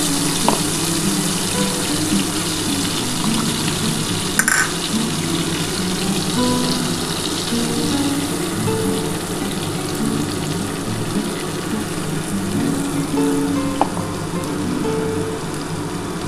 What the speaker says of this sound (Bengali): আমি এর মধ্যে অল্প করে একটু জল দিয়ে দিচ্ছি বন্ধুরা